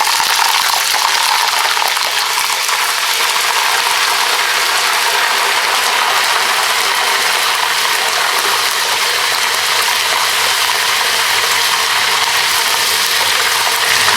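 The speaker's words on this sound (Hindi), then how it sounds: "इसमें हम जिंजर गार्लिक पेस्ट अपना ऐड करेंगे।" Ginger garlic paste sizzles steadily against well-roasted dry spices for a chicken curry, a loud, continuous hiss with a faint crackle and no voices.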